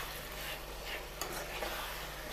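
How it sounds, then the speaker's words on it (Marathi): Eggplant and tomato stirred together in a pan for Marathi vangyacha bharit, a soft, steady scraping and faint sizzle that runs evenly throughout at low volume. "वांगे आणि टमाटर, आणि याला आता छानपैकी आपण मिक्स करून घेऊया।"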